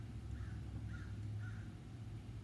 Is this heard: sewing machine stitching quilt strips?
no